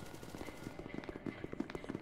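Gunfire in the video game SCP: Secret Laboratory rattles in rapid bursts of repeated shots, faint and distant-sounding over about two seconds.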